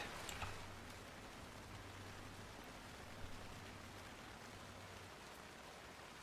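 Steady, soft rain falls in Alan Wake 2, an even hiss of drops with a faint low hum underneath and no voices.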